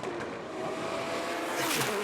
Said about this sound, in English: 3 completely different cars, distinctive sounding cars as well.